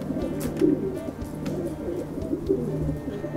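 Pigeons coo close by in soft, repeated throaty calls, with a few faint clicks and rustles, with no voices.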